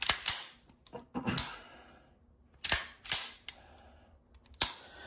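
A Springfield Prodigy pistol's slide cycling after fitting of the proper mainspring, recoil spring and trigger, heard as a handful of sharp, close metallic clacks spread irregularly across a few seconds with quiet gaps between them.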